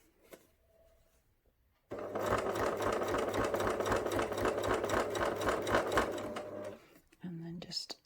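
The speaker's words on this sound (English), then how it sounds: "then a bit more sewing" A sewing machine stitches the brim of a fabric flat cap for a memory bear, a loud steady mechanical whirr running for about five seconds after a quiet start, with a brief softer burst at the end.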